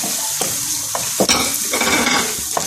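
Turnip, potato and spinach stir-fry in a pan with a steady close sizzle, broken by several scraping strokes of a spoon as the vegetables are turned.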